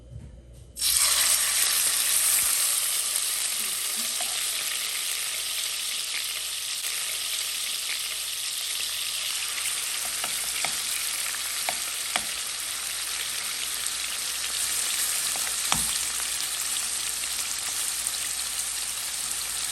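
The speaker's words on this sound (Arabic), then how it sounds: "نبدأ ننزل الدجاج يا بنات على دفعات، لا تخلونه كله مرة واحدة لأننا نبغاه إيش؟ نبغاه متحمر ومتقمر" Batches of chicken for shawarma fry on a very hot griddle in oil, giving a loud, continuous close sizzle that starts abruptly and holds steady, with occasional faint clicks and pops of utensils.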